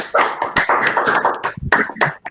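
Scattered, uneven clapping picked up through open microphones after a magistrate's talk at a remote event, a few hands beating close by in short bursts with brief gaps.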